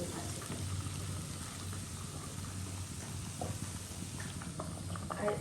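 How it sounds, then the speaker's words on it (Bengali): Potatoes and flat beans fry in a pan in a home kitchen at night, a soft, steady crackle and patter of sizzling oil, close and unbroken, with no one speaking. "আলু আর শিম ভাজি হচ্ছে এখানে"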